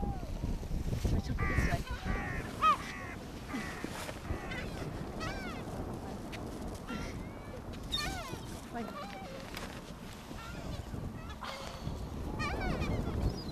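Seagulls call on a beach in scattered squawks and cries, some close and some distant, over a constant background of wind and surf, with talk mixed in throughout.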